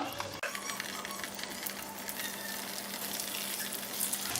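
Lentil balls frying in hot oil give a steady, dense sizzle after a brief handling noise at the start, continuing evenly at moderate level with no talking.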